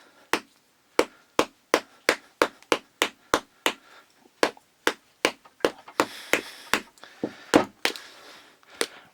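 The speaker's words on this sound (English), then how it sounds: "This one comes with a little hammer and a shovel. So I'm supposed to break through this." A long run of sharp, evenly spaced taps from a small toy hammer striking a hard toy casing, close by, with a few crunchier hits near the end.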